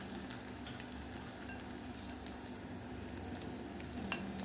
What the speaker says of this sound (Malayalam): നമ്മൾ ബീറ്റ് ചെയ്ത് വെച്ചിരിക്കുന്ന ഈ മുട്ടയുടെ ബാറ്ററി ഒഴിച്ചു കൊടുക്കാം